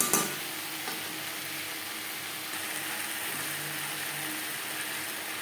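Katla fish pieces with salt, turmeric, eggplant, boiled potato and spices are stirred in a pan, a soft continuous sizzle with light scraping after a sharper clatter at the start, and no talking.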